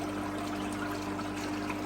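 Water running through a net into a winter koi quarantine tank after cleaning, giving a steady, continuous pouring trickle close by with no talk.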